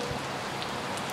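Rain falls steadily outdoors beside a parked 2024 Hampton 372FDB fifth-wheel RV, a soft, continuous hiss of drops with faint patters, fairly close and alone, with no voices.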